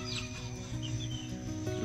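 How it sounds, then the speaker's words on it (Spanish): A hen, recently bereft of her chick, clucks softly, calling for it in a quiet, close series of low calls. "Vean, ahí lo está llamando."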